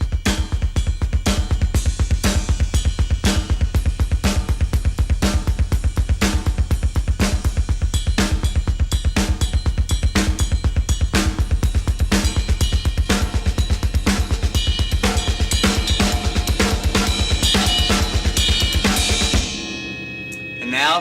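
A drum kit plays steady, rapid double bass drum patterns under hand patterns on cymbals and drums, a dense driving pulse that holds for about twenty seconds and then stops with a ringing crash.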